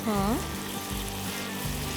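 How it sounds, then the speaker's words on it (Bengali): Garlic and ginger paste sautés in a hot pan for a tender-coconut malai prawn dish, giving a steady close sizzle for about two seconds after a brief high squeal at the start. "এবারে এটাও একটু ভালো করে কষে নেবে ভালো করে কষে নেবো যাতে কাঁচা গন্ধটা চলে যাবে ভাজা ভাজা হয়ে যাবে"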